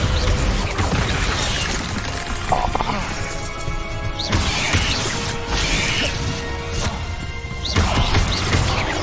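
Descendo spell in the Hogwarts Legacy video game slamming objects down, several sharp crashes and thwacks spaced through a busy game soundscape.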